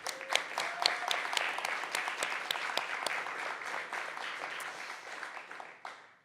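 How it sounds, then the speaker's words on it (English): Steady applause from a crowd for sponsors at a Capture the Flag event, dense clapping that holds evenly and then fades out at the end. "Let's give all of our sponsors a round of applause"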